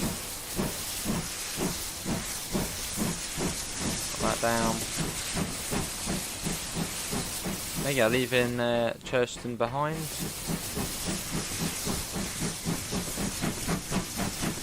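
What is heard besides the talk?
steam locomotive safety valve hissing, from video game Train Simulator Classic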